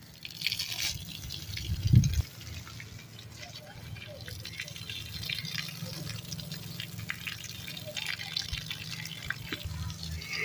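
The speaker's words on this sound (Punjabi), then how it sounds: "ਸਾਨੂੰ ਦੁਬਾਰਾ ਪਾਣੀ ਛਿਣਕਾਉਣਾ ਪੈ ਰਿਹਾ ਵਾ ਗਾਰੇ ਤੇ" Water is sprinkled onto the mud plaster of a mud house in strong sun, heard as a brief louder splash early on followed by soft, scattered dripping and trickling over a faint outdoor background.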